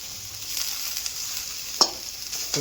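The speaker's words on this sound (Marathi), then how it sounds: "आता बटाटे हे करून घेते तेलामध्ये फ्राय" Potatoes fry in hot oil for a fasting-day cutlet, a soft steady sizzle close by with a single sharper clink or stir near the middle.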